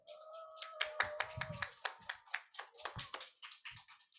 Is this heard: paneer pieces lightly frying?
no